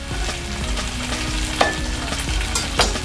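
Pork pieces frying in a hot pan, a steady close sizzle with stirring scrapes and a couple of sharper clinks of a utensil against the pan, in preparation for Japanese char siu.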